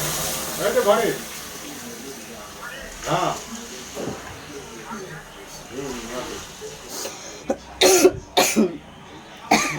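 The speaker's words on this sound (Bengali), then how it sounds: "সোমবারের এই ঝাঁঝটা গন্ধে লাগছে, গলায় খুব কাশি হচ্ছে।" A few sharp coughs break out in a home kitchen, amid pungent fumes from a nigella-seed and turmeric tempering for a vegetarian Bengali dish with rice and papaya. Most are clustered near the end, with talk and cooking sounds throughout.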